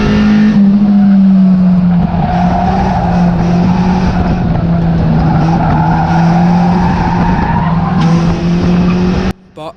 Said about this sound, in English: the 700 car spins out in front of my dad